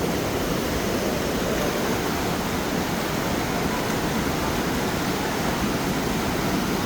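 Kat waterfall rushes steadily as a dense, even wash of falling water, loud and unbroken throughout with no voices.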